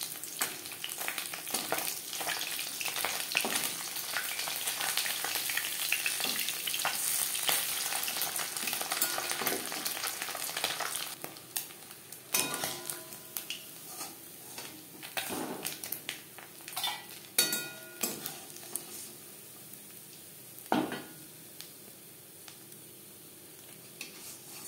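Small bata fish fry crisp in hot oil in a pan, a dense, continuous sizzle with sharp crackles and spatters that eases slightly toward the end, with no voices.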